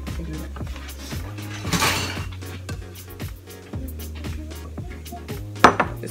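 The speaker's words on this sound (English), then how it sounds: "I'm just going to take it and chop it into like little circles" A knife chops sausage into slices on a board for cowboy beans in a home kitchen, a series of close, regular knocks with light clinks of utensils in between.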